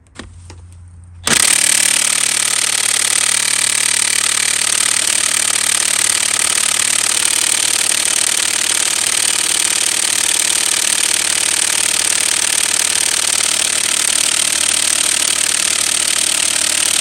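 A battery-powered impact wrench runs almost nonstop, loud and close, hammering at a bolt on the rear end of a 1974-78 Ford Mustang II after a short quiet start.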